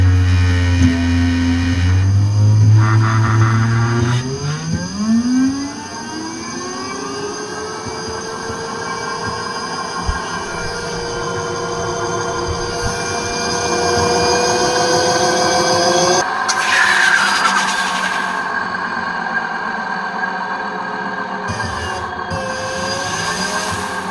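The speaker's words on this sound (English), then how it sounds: "I've got it off the ground here, so the wheels are just freewheeling." An electric-converted ATV, formerly petrol-powered and running on battery power, spins its motor with the wheels raised off the ground and freewheeling. A whine climbs in pitch as it speeds up, then holds steady with a shift partway through.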